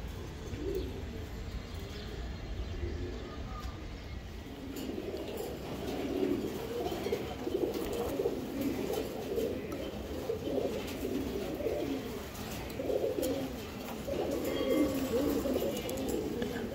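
Racing pigeons coo steadily in a loft, a dense, continuous murmur of overlapping low calls with occasional chirps, moderately near and fairly even in loudness throughout.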